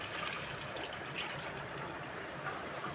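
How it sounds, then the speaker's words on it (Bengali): Thin mango and gram flour batter poured into hot tempered spices with curry leaves: a steady, soft liquid hiss and sizzle running unbroken throughout, faint and close, with no talking. "এরপরে আমি আম আর বেসনের ঘোলটা ঢেলে দিলাম।"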